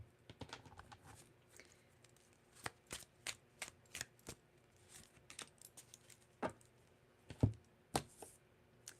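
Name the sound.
shuffling tarot cards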